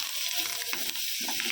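Curry leaves, ginger and garlic sizzle in a hot pan, a close, steady crackling fry with brief stirring scrapes and splashes, and no talk over it.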